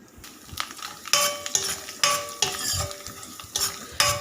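Grated coconut stirred and fried in a generous amount of coconut oil for kakka (clam meat) fry, rhythmic loud scrapes and clinks of a utensil against the pan over a low background sizzle.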